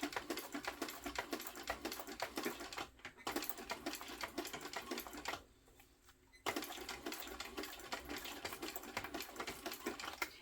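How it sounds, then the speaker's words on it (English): A sewing machine back stitches across a fabric notebook cover with tape around it, running in fast continuous bursts that pause briefly near three seconds and again for about a second near the middle before resuming. "And I'm back stitching over both."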